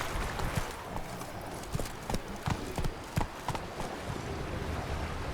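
Roach, a horse in The Witcher 3: Wild Hunt video game, gallops with steady, rhythmic hoof clip-clops close by, the beats running throughout over a soft windy outdoor backdrop.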